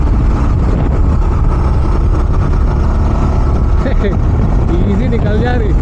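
Jawa 42 Bobber BS6 2024 cruiser motorcycle engine running while riding, a loud constant drone with wind rush and a rising whine near the end, voice chatter underneath.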